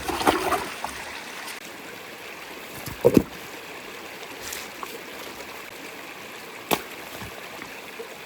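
River water flows in a steady, soft rushing wash close by on a sunny day, with occasional sharper splashes and knocks breaking through the continuous stream.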